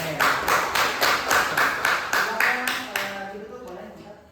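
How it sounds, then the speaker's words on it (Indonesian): Classroom students clap for a group that has just presented, about a dozen rhythmic claps in unison, steady and close, then trailing off with faint talk. "tepuk tangan dong untuk kelompoknya"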